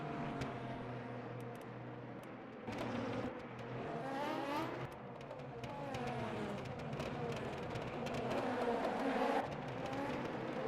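A racing car engine on the Fuji circuit in a racing video game drones and rises through repeated revving gear sweeps, steady and fairly loud, with faint game sounds in the background.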